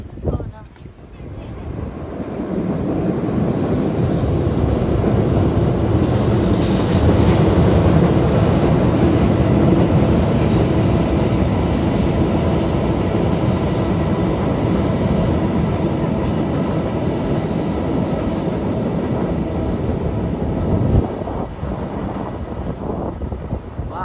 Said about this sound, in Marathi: ट्रेन पण पाहायला मिळाली